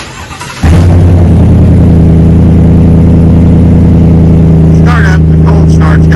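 A 2021 Chevrolet Silverado pickup with a Flowmaster Super 44 muffler cold starts with a crank and a loud burst, then settles into a raspy, rumbling idle close by, with a brief voice over the engine near the end.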